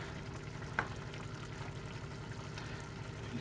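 Milk is whisked into a thick lasagna sauce in a pan, a low continuous bubbling and scraping churn with a single sharper tick early on, close and quiet, with no talking.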